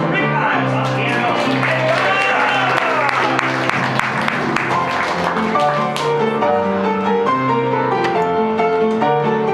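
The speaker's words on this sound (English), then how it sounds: "we can end the fun with a nice round of applause for Rick Ives on piano." Theatre audience applauding a piano accompanist at the close of a Christmas Carol improv comedy show, steady full clapping throughout with a bright piano-like tonal layer sounding over it.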